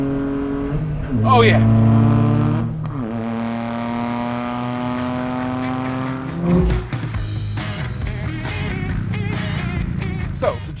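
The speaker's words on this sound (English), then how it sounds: "Oh, the exhaust on this GR Cup car." The exhaust of a Toyota GR Corolla GR Cup race car revs hard, climbing through rising sweeps with crackling pops between gear changes, loud and close, while a voice briefly exclaims over it.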